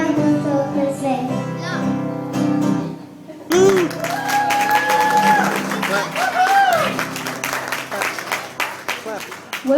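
After a child named Grace finishes singing Jingle Bells, a small audience breaks into clapping that runs under children's chatter and an adult voice.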